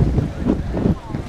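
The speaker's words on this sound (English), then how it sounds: "It is quite cold and windy." Wind buffets the microphone in low, rumbling gusts on a cold, windy beach in Key West, with a rushing, blustery noise throughout.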